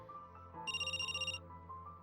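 A phone ringtone in an audio drama sounds as a short electronic trill of bright warbling tones lasting under a second, quiet over a low background hum.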